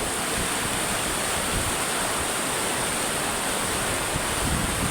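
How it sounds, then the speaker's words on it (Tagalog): A river near a bridge in Gabaldon rushes in a steady, dense wash of water noise that fills the scene without pause. "ilog na to dito sa Gabaldon, dyan sa may tulay"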